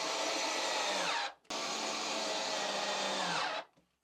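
Small cordless switch driver running screws into a cabinet, two steady whirring bursts of about a second and two seconds, close and fairly quiet, no talking.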